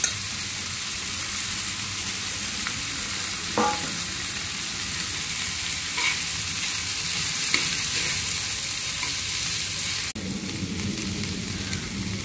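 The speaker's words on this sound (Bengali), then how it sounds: "এখন দিয়ে দিব গ্রেট করা রাখা আলু।" Grated boiled potatoes fry in a pan with a continuous hissing sizzle, a spatula scraping and stirring through them now and then; close, fairly loud, with no speech.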